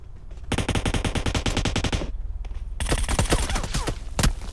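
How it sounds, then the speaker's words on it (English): Loud automatic gunfire in a video game, a rapid steady burst of shots that stops briefly and then gives way to more scattered, overlapping shots and impacts. "We got automatic fire."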